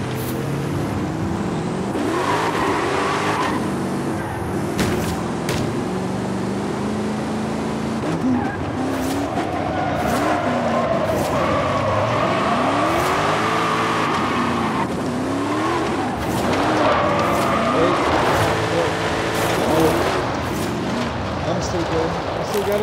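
A car in Forza Horizon 5 brakes and skids, tires squealing in drawn-out sweeping tones over a steady engine roar. Players chat throughout.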